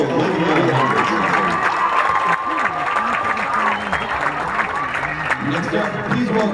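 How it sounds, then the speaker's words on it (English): Crowd applause and cheering at a ceremony during a high school football game between the Wilmington Greyhounds and the Farrell Steelers, a steady dense roar that fills the whole stretch, with voices mixed in and a thin whistle-like tone partway through. "How about a round of applause for Olivia Hendrickson?"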